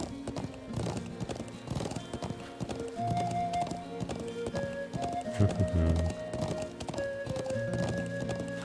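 Horse hooves clip-clop at a steady trot in the video game Trails of Cold Steel, rhythmic hoof strikes running throughout alongside game music with sustained tones, with a brief whinny-like flourish midway.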